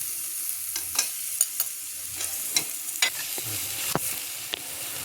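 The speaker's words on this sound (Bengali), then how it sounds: "এবার আমি গুঁড়ো মশলাটা এর মধ্যে দিয়ে দেবো।" Powdered spices fry in hot oil with a soft, steady sizzle, punctuated by several sharp scrapes and taps of a spoon stirring against the pan; no one talks.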